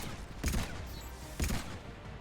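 Two short bursts of gunfire in a Mass Effect crossfire on Insanity difficulty, each a clustered volley about a second apart over a steady background hum of game ambience.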